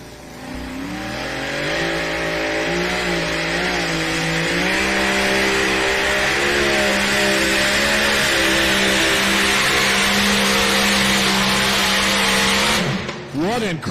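A mini rod pulling vehicle roars steadily down the track at a truck and tractor pull in Bowling Green, Ohio, its engine loud and close with shifting revs throughout, briefly cutting off near the end.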